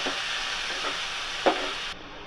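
Raw onion paste being stirred in a pan, a soft steady sizzle with a few dull spatula scrapes, faint and close, no talking.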